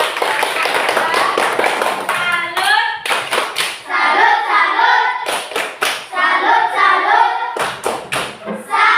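Classroom applause for a student group after a presentation: sustained clapping from many hands, loud and close, with brief pauses between bursts and some children's chatter mixed in.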